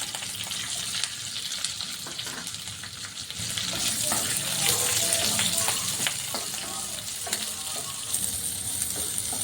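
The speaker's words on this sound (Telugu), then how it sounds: "ఆనియన్ను ఇలా లైట్గా వేయించుకోవాలి" Sliced onion, cumin and curry leaves frying lightly in a pan of oil for tomato chutney, a steady close sizzle that grows louder partway through, with some stirring scrapes and no clear talk over it.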